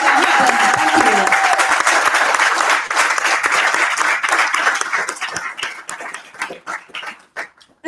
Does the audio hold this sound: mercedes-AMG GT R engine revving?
no